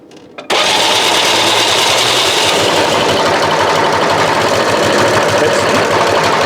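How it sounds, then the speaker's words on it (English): A Citroën AZU engine in poor running condition held at full throttle, starting abruptly into a loud, steady, buzzing roar that continues without a break from close range. "giving it full throttle right now, otherwise it will die."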